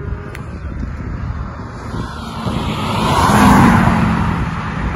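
A 1989 Audi V8 with a stainless exhaust and 250 hp revs, a broad low engine roar that swells to a peak and eases off, heard outdoors under steady wind noise.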